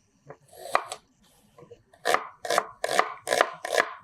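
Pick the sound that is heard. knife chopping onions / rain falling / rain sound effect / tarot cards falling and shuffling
knife chopping onions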